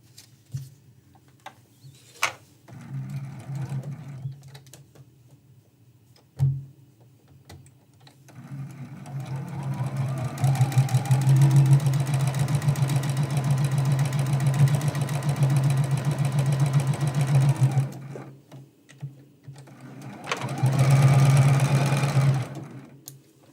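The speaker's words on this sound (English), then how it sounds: "and sew that seam." A sewing machine stitching a seam for foundation paper piecing of a candlestick trivet, with a few short clicks, then a long steady whirring run and a final shorter burst, close and clear with no talk.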